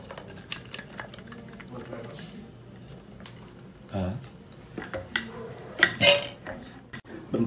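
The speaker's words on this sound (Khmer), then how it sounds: "ហើយយើងចាក់ចូលឆ្នាំង" A ground mixture is poured and scraped into a cooking pot for stir-fried cabbage with chicken and pineapple, with metal clinks and clatter of kitchenware at moderate loudness, busiest around the middle and end, amid faint background voices.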